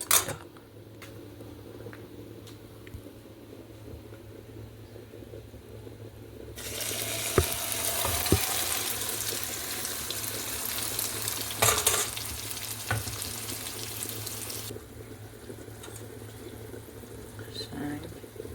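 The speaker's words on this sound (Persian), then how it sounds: "خب حالا اینا رو باید بریزیم توی روغن داغ" Batter with egg dropped into hot oil sizzles and fries loudly in a pan, a steady crackling hiss that swells midway and then settles, with faint kitchen clatter and no voices.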